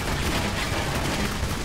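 Gunfire in Clive Barker's Jericho video game, a dense continuous roar of rapid shots and blasts filling the whole stretch at steady loudness, with no talk heard.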